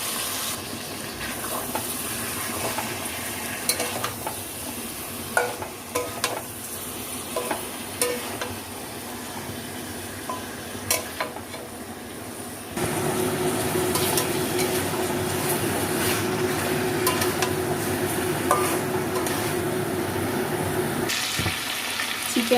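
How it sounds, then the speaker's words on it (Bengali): Chicken with spices sizzles steadily in a pan for a red chicken and potato curry while being stirred and scraped, a loud continuous frying hiss that grows fuller partway through, close up with no talking. "চিকেনটাকে আমি 10 মিনিট মতো কষিয়ে নিয়েছি।"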